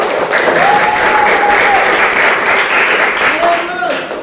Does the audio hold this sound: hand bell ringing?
no